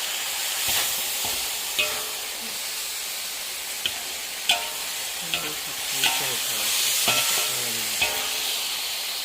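Pork stir-fries with ginger in a hot pan, a continuous hissing sizzle broken by repeated sharp scrapes and clacks of the spatula against the pan, close and loud.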